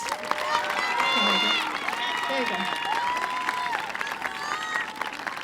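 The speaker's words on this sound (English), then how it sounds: "Can we give them a round of applause?" Crowd applause for a school executive team at a senior class presentation, a steady wash of clapping with some cheering, mixed with talk and voices over the top throughout.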